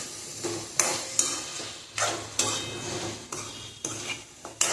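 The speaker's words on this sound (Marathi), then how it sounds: "शेवग्याच्या शेंगा तेलामध्ये चांगल्या प्रकारे परतायच्या, म्हणजे त्या पटकन शिजतात।" Drumstick pods are stirred and sautéed in hot oil in a pan, with a low sizzle under repeated sharp scrapes and clinks of a utensil against the metal at an irregular rhythm.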